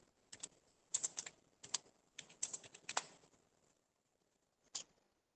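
Fingers typing a date into a cell in Microsoft Excel 2013 on a computer keyboard, close crisp keystrokes in quick clusters, then a pause and one last key press, with no talking.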